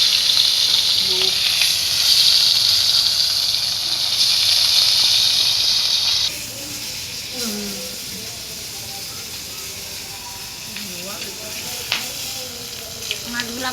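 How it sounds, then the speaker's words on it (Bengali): Pieces of rohu fish sizzle in frying oil, a bright steady hiss at first that falls to a softer crackle halfway through, with scattered clinks and scrapes from a utensil in the pan. "বাকি মাছগুলো ভেজে নেব।"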